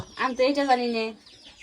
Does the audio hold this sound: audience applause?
no